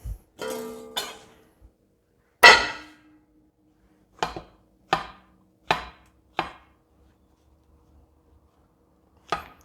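Mushrooms being finely chopped for duxelles, a knife striking a cutting board in sharp, separate thunks with uneven gaps, close and clear with no talking.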